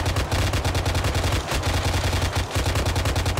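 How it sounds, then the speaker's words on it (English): Sustained suppressing gunfire from a heavy DShK machine gun in a military shooter video game, loud rapid automatic bursts with brief pauses, no talking. "You know, just firing to where the gunshots are."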